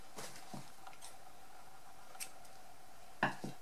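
Scissors cutting wool yarn on a pompom disc for a handmade panda, with a few quiet snips near the start and a louder, sharper pair of cuts toward the end, all heard close and alone in a quiet room.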